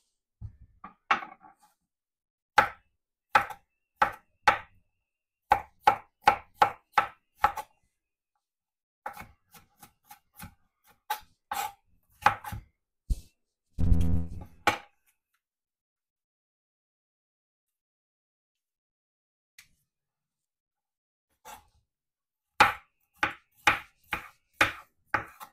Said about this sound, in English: I cut up all these natural seasoning